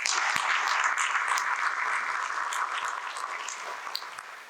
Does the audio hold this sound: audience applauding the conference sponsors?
yes